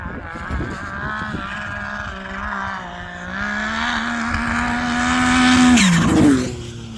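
A Yamaha Sidewinder snowmobile accelerating hard on a speed run, its engine droning loud with a long rising pitch that peaks sharply near the end, then drops away.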